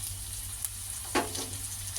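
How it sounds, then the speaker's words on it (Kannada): Steady sizzling of frying puffed rice seasoning in a pan as chopped medium-sized tomato goes in, a constant hiss with a brief louder splash near the middle, no talking. "ಇದಕ್ಕೆ ನಾನು ಕಟ್ ಮಾಡಿರೋಂಥ ಟೊಮೊಟೊ ಒಂದು ಮೀಡಿಯಮ್ ಸೈಜ್ದು ಅದನ್ನು ಇದಕ್ಕೆ ಸೇರಿಸ್ಕೊತಾ ಇದ್ದೀನಿ"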